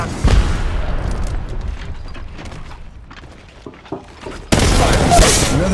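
Gunfire and a grenade blast in the Apex Legends Mobile shooter game, a steady clatter of shots through the first seconds, then a sudden loud wide burst near the end that stays dense and loud.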